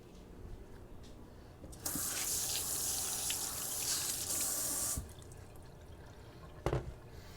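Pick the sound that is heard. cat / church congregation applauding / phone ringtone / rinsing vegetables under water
rinsing vegetables under water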